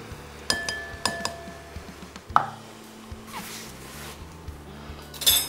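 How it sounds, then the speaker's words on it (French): An egg is cracked and mixed with milk using a fork, heard as several sharp glassy clinks and taps of the fork against the bowl, close and distinct against a quiet kitchen. "on va casser l'œuf. Et on va le mélanger avec le lait."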